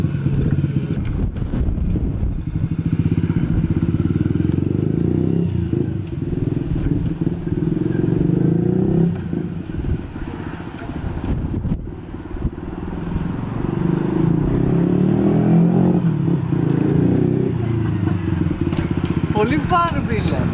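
Small motorcycle engine running and revving on a test ride after being fixed up, a steady loud drone with wind buffeting the microphone and people talking over it throughout.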